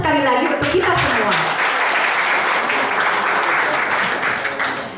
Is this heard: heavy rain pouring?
no